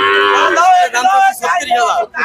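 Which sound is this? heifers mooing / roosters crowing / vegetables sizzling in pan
heifers mooing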